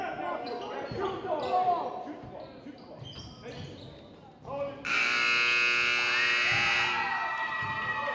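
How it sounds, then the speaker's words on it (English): Amid high school basketball gym chatter and squeaks, the loud, sustained game-end buzzer blares for about two seconds, then crowd noise continues. "And the buzzer sounds, and that's game."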